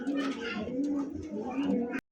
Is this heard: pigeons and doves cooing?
yes